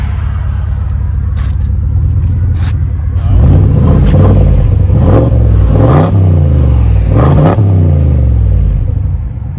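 A 2020 Ford F-250 with the 6.2L V8 and a muffler-delete exhaust, loud and close, idling with a deep burble before several sharp revs that swell and fall back in quick succession.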